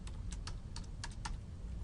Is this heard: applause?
no